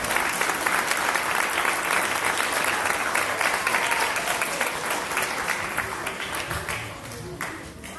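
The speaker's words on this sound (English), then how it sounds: "Round of applause." An audience applauds at a school grant announcement, a full and steady burst of clapping from many hands that holds strong before tapering off near the end.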